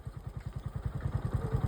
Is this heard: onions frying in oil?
no